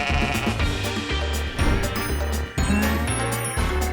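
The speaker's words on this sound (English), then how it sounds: "This is a sheep." A sheep bleats repeatedly over a backing of jingly children's music, its wavering cries loud and close, coming in several bursts.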